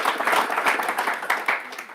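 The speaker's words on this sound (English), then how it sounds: "let's give you guys a quick round of applause." Round of applause from a gathered crowd at a press event announcing BC Lions Touchdown Kelowna games, steady dense clapping filling the full two seconds at moderate volume.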